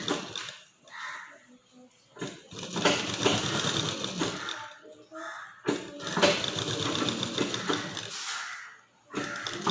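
A sewing machine stitching fabric runs in two long bursts separated by pauses, a close rattling whir with handling noises and a voice talking between the runs.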